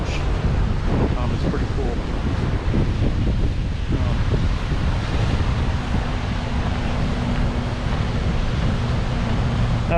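Wind buffets the microphone over North Atlantic surf on the coast, a steady broadband roar of waves with gusting noise throughout, while someone talks briefly over it.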